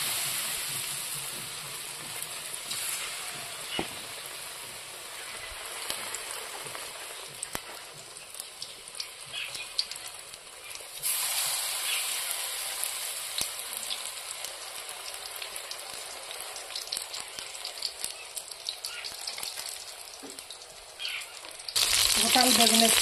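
Eggplant chops coated in potato mixture frying in a wok, a steady close sizzle of hot oil running throughout with occasional stirring clatter and a louder burst of crackling near the end.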